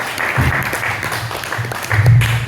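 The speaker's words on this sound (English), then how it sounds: "One more round of applause for Dan Hool, everybody." An audience applauds a comedy act, dense clapping that swells and fades over a couple of seconds, close and fairly loud, with a hint of voices mixed in.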